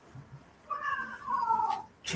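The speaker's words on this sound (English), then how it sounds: "Oh, someone has a cat there." A cat meows somewhere in the background, one drawn-out caterwauling call that rises and holds before trailing off, faint and alone with no talk.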